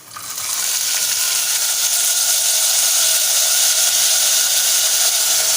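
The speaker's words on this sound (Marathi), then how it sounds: "कांदा बघा आपला नरम होत आलाय आता आपण मूळ आलेले चणे टाकूया" Sprouted chickpeas tipped into softened onions frying in a pan, giving a steady, loud, close hiss and sizzle that rises quickly and holds evenly throughout, with no talking.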